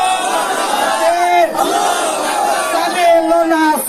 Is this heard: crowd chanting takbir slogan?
yes